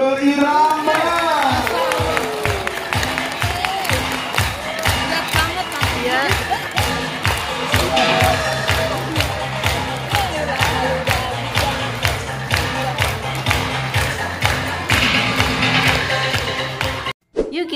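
A crowd at a safari park show in Indonesia claps in a steady, rhythmic beat, loud and close, with cheering and voices mixed over the pulse before it cuts off abruptly at the end.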